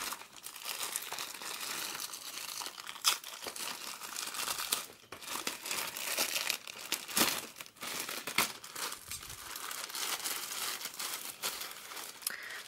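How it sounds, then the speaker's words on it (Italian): Small plastic-wrapped stationery package being opened, a continuous dense crinkling and rustling of thin plastic with sharp crackles and tearing bits, close and steady throughout, no voices. "adesso andiamo a aprire il nostro pacchettino solito"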